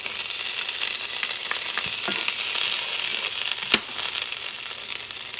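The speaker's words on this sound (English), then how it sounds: "And mix this up for a few seconds." Green beans, corn, carrot and sweet peas sizzle steadily in a hot pan with melted fat, with scattered scraping clicks of a utensil stirring them and one sharp clack near the end.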